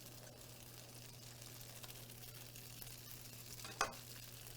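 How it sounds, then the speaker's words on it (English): Tofu vegetable fried rice sizzles on an induction cooktop, a faint, steady hiss with a low electrical hum beneath it and one brief clink of stirring near the end. "Can you hear that sizzle?"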